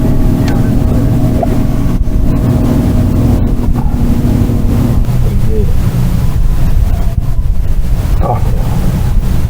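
A fishing boat's outboard motor drones steadily and up close throughout, with water sounds beneath the engine hum.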